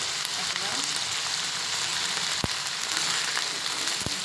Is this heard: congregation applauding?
no